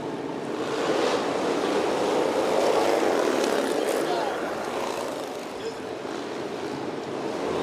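Harley-Davidson Sportster motorcycles, one a 2003 model, race in an X Games hooligan flat-track qualifier, a continuous broad engine roar that swells and eases as riders push hard, with a commentator talking over it.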